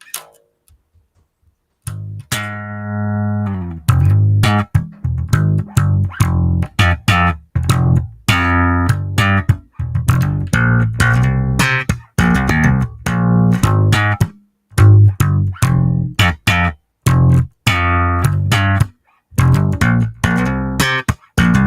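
A punchy slap bass riff with sharp percussive pops and thumps in a steady, rhythmic pattern, played close and loud after a brief quiet start.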